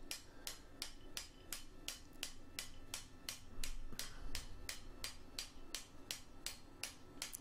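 A blacksmith hammers a shackle on a bottom swage, giving a steady run of sharp, evenly spaced metallic blows, close and loud, with no talking.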